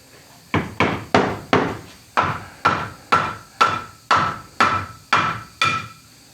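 Eleven evenly spaced hammer blows drive poplar nickel gap trim boards tight into place, each a sharp wooden knock close by and loud, with no talk.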